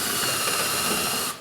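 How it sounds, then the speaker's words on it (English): A power drill with a small bit bores out a plastic-filled hole, whirring at high speed, a bright buzzing grind close by that runs steadily and cuts off abruptly at the end. "use a drill and a smaller drill bit to chatter out the hole"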